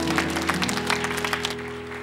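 A church congregation gives a round of applause, with brisk, moderately loud clapping over a sustained keyboard or organ chord that holds steady underneath.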